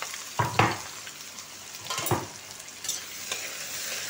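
Three medium chopped onions fry in a pan with a steady background sizzle, broken by a few scraping stirs and light clinks of a utensil against the metal, with no one speaking.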